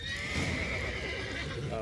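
A horse in The Witcher 3 video game gives a clear whinny that rises and falls, moderately loud over a low rumbling game background, with no talk.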